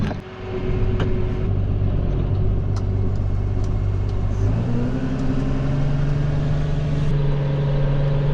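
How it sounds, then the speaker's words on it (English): Farm tractor pulling an unfolded rake through first-cut silage grass, a steady close engine drone throughout that shifts to a slightly higher pitch about halfway through, with no talk. "And there we go, we are now raking the grass."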